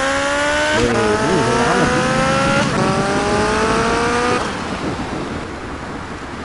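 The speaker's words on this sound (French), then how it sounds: "Alors j'aime bien parce que c'est une moto, juste toute petite sport." Small sport motorcycle engine in GTA Vice City, revving loud and close with rising pitch sweeps and gear shifts, then dropping to a rougher rumble; a voice speaks briefly over it.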